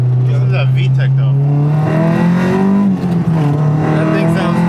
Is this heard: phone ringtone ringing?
no